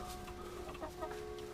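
Chickens cluck softly in short, uneven bursts over a steady background hum, fairly faint and close by, on a farm.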